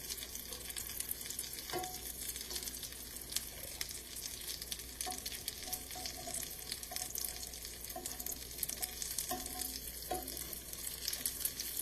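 Slices of Spam pan-fry for musubi with a steady, close sizzle that runs the whole time, broken now and then by the clatter of a utensil stirring and flipping the pieces.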